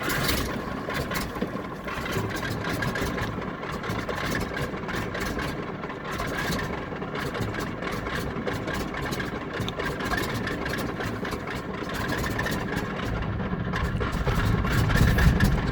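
A Stinson 985 radial aircraft engine idles steadily after start-up, a continuous, fairly loud rumbling drone with a dense uneven pulse that holds level throughout and swells slightly toward the end, with no talking.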